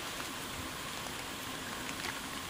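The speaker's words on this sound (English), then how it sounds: "the rain is slowing down" Steady rain falling outdoors in Thailand, a soft continuous hiss of drops on surfaces, even and unbroken throughout with no voices.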